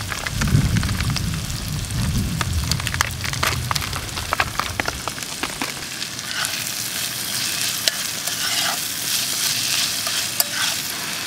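Bacon frying with onion in a pan, a loud continuous sizzle with heavy low rumbling early on, then sharp crackles and spoon scrapes over a bright steady hiss.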